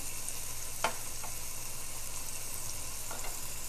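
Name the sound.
chopped onion and fresh garlic frying in hot oil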